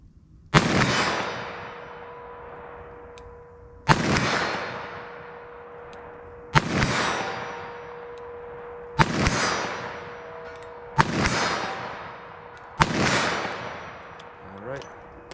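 .357 Magnum Winchester Critical Defense rounds are fired outdoors at a 50-yard target in muddy ground, six loud, sharp revolver shots spaced a few seconds apart, each trailing off with a ringing echo.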